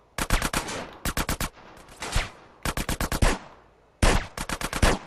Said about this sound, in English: Alright, that was a good use of my pistol.